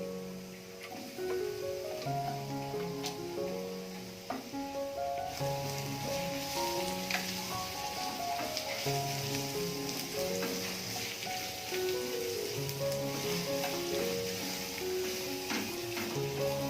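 Steady sizzling of garlic and onion frying in hot oil continues throughout, with occasional stirring clicks, under a soft background melody.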